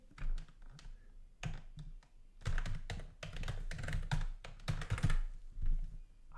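Keys clatter on a computer keyboard as an email address is typed into an account registration form, with quick irregular bursts of close, moderately loud taps and brief pauses between them.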